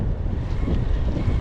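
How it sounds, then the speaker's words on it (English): Strong downstream wind buffets the microphone beside a river during salmon fishing in the Borders in March, a loud, rough rumble of gusts that stays close and continuous. "this downstream wind is really blowing the line"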